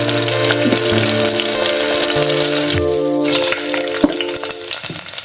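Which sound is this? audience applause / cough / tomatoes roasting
tomatoes roasting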